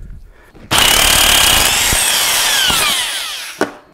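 A wrench breaks loose a fastener on a Dana 300 transfer case during rebuild assembly, one loud sustained grinding, screeching sound of about three seconds with a rising squeal that fades, then a short knock.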